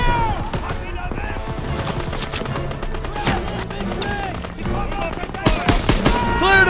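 Rapid machine-gun bursts in a Call of Duty WWII firefight, dense and loud, running almost continuously with heavier cracks near the end, mixed with shouted voices.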